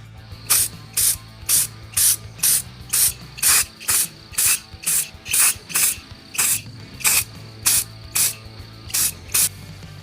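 Bed liner sprayed from a pneumatic spray gun onto an air tank for a second coat, a rhythmic series of about twenty short hissing bursts, close and loud, over a low compressor hum.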